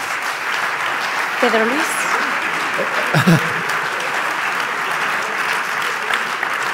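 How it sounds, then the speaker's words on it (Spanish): Steady applause from an audience at an anniversary award ceremony, continuous dense clapping throughout while people speak briefly over it. "Y pues un fuerte aplauso,"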